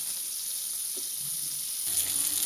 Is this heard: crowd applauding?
no